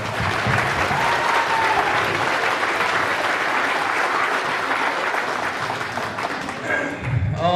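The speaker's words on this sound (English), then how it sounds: "I think she deserves a round of applause." Sustained applause from an audience at a high school football awards day ceremony, dense and loud clapping that carries on steadily for several seconds before fading at the end.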